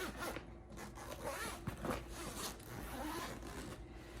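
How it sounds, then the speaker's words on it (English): A backpack zipper pulled open in several short, scratchy strokes, close and fairly quiet, with faint rustling between pulls. "So now we go to zipper number 1."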